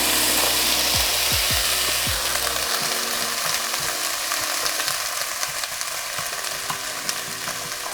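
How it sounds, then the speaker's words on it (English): Bell peppers dropped into a hot pan set off a loud, steady sizzle and frying hiss, with a few low thumps at the start as they land, then continuous crackling with occasional scraping. "Okay, our pan is hot, so let's add the peppers."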